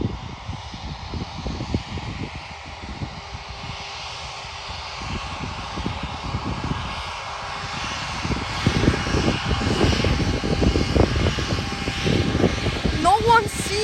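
A Freebird Airlines Airbus A320-232 airliner at Leipzig airport gives off a loud, rumbling jet roar that swells steadily as it grows nearer, with voices talking faintly over it.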